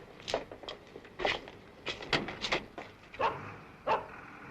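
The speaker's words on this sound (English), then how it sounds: "You can put your little doggy in the boot, George." A small pet dog yaps several times in short irregular bursts, fairly close, with a low room hum and faint movement noises in between.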